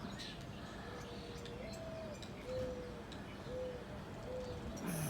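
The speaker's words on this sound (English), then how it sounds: "The morning dove cooing on my roof." A mourning dove coos from a rooftop, several soft, low, drawn-out notes in an even series, faint and distant over steady outdoor background noise.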